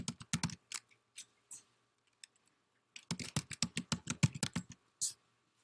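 Close, quiet typing on a computer keyboard comes in two bursts of rapid key taps, separated by a near-silent pause.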